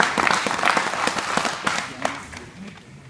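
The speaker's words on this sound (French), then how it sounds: "Je vais les applaudir." Applause from an audience at a dog field trial, with handlers presenting lively hunting hounds that chase hare. Steady clapping runs for about three seconds, thinning out toward the end, with some speech-like sounds mixed in.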